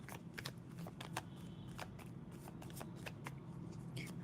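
A tarot card deck being shuffled close by, with a steady run of quick riffling card clicks and flutters over a low background hum, no talking.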